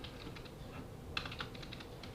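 Quiet clicking of keys on a computer keyboard, a quick irregular patter of taps with one or two slightly sharper strokes, close but soft and without speech.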